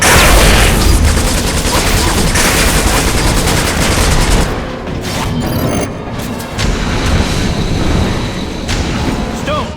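Grenade explosions and heavy gunfire in the sci-fi shooter Section 8: Prejudice, a loud, dense barrage of automatic fire and booms with crashing impacts, a brief lull, then more shooting.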